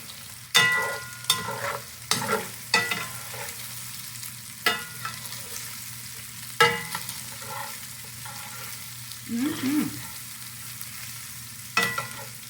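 Butternut squash cooking in a pan, heard as a steady low sizzle with a series of sharp scraping stirs scattered throughout, close and fairly loud, with no voices.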